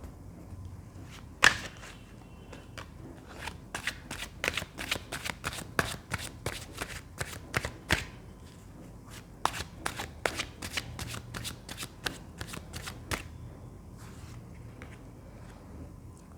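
Tarot cards are shuffled by hand in a long run of quick, crisp riffling snaps and flutters, close and fairly loud, with short pauses between bursts.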